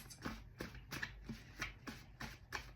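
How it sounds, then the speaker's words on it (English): A deck of tarot cards being shuffled by hand, with repeated riffling bursts in a steady rhythm roughly every third of a second, close and fairly quiet, with no voices. "I'm going to keep shuffling just to see if anything else flies out."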